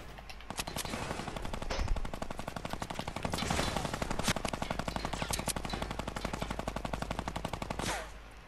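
Rapid automatic gunfire in a PS4 video game, a dense, steady stream of loud shots rattling continuously for about eight seconds before cutting off abruptly.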